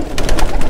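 A pigeon coos close by in a short, throaty burst of soft, rolling notes.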